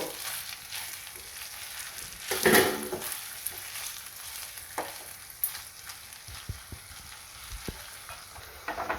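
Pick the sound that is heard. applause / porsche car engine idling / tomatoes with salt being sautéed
tomatoes with salt being sautéed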